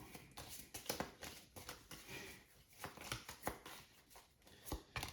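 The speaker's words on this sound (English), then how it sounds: "So I have to shuffle my discard pile." A discard pile of game cards is riffled and squared, giving soft close papery flicks and taps in an irregular run, quiet and alone.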